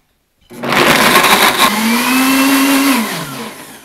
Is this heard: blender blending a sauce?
yes